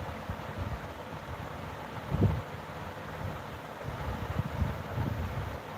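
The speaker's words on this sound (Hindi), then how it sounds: "हवा चल रही है, बारिश हो रहा है" Steady wind buffeting a microphone during rain, low rumbling gusts rising and falling continuously with no voices.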